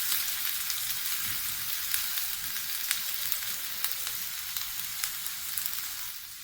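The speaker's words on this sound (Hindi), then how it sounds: "फ्लेम जो हमने रखना है लो टू मीडियम रखना है, ताकि हमारी प्याज उनकी अच्छी से सॉफ्ट हो जाए।" Onions fry on a low-to-medium flame in a pan, a steady soft sizzle with small crackles and pops scattered throughout, no voices.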